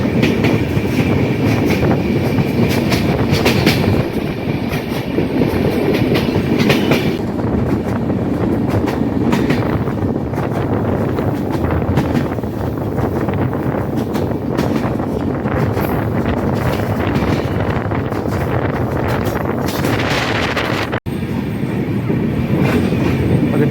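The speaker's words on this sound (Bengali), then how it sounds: "ট্রেন প্রবেশ করছে ফরিদপুর জেলার তালমা রেলওয়ে স্টেশন" The Madhumati Express train rumbles along the rails near Talma station, Faridpur district, with a loud, continuous roar, rhythmic wheel clatter and occasional squeals, heard from on board.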